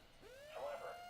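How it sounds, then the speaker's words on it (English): A tornado warning siren during a Kentucky severe storm, its tone sweeping upward and then holding a steady wail, heard faintly and at a distance under broadcast room noise, with no talking. "Disregard the tornado siren, please."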